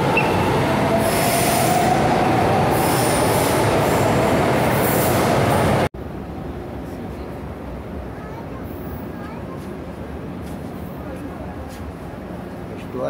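São Paulo metro train running on Line 1, loud wheel squeal and rushing rail noise up close, then a sudden drop to a quieter steady rumble and clatter, with talk nearby.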